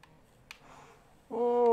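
Rally car engine in the racing video game Dirt Rally 2.0. A few faint clicks give way to a sudden loud engine tone that climbs slightly in pitch.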